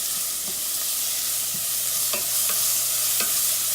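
Garlic sizzles and crackles steadily in a hot pan as it is stirred, with a few scraping strokes of the utensil against the pan standing out through the constant frying hiss.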